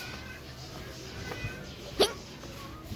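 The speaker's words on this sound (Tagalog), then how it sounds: "May sinok ako." A single sharp hiccup from a person at home, one quick loud burst over a quiet background.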